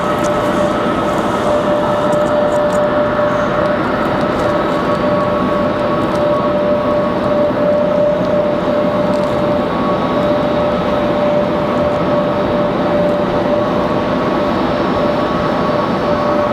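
Frontier Airbus A321neo jet engines at Raleigh Durham airport, a loud sustained roar with a steady whining tone held throughout, constant and unbroken, no voices.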